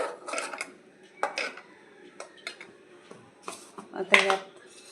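A spoon clinks and scrapes against a bowl while coconut chutney for idli is mixed, in several short bursts of clatter separated by brief pauses, with a little background talk.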